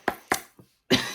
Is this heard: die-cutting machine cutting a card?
no